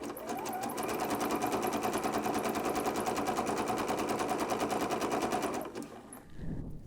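A sewing machine runs a zigzag stitch around an Ikea pillow cover, a rapid loud rattling chatter of needle strokes held steady for several seconds before stopping abruptly near the end.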